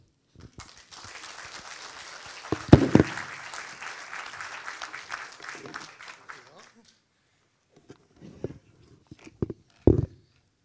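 An audience applauds at the end of a presentation on Langebaan Lagoon, a burst of clapping that swells quickly and fades after several seconds, followed by a few scattered claps and brief sounds near the end.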